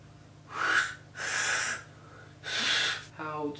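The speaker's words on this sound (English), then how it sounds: "How to whistle with fingers." Three breathy, hissing blows through the fingers in succession, each about half a second long, followed by a short, strained whistle-like tone at the end.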